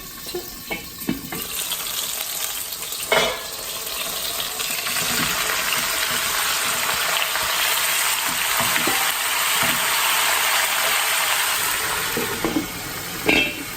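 Iceberg lettuce stir-frying in a pot gives a steady, close, broadband sizzle throughout, with a few clanks and scrapes from stirring and no voices.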